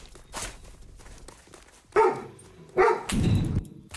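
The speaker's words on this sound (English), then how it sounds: "You're just barking and looking at me." A dog indoors barking, a couple of loud close barks with movement and scuffling around them in a quiet room.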